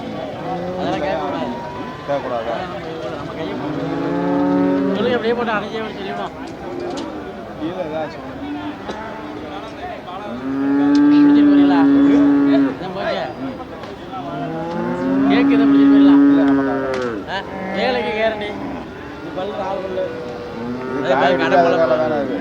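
Cattle moo loudly in long, drawn-out calls at Manapparai cattle market, several bellows repeating close by, while people talk over a busy market background.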